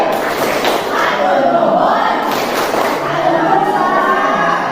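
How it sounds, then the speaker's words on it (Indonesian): Indonesian classroom of pupils doing the tepuk terima kasih clap routine, with loud rhythmic group claps and thumps mixed with excited shouting voices, close and continuous. "Tepuk terima kasih."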